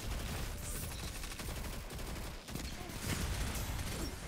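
SMG gunfire in a shooter game, rapid sustained bursts of shots crackling continuously and fairly close, with brief pauses and a voice occasionally speaking over the shooting.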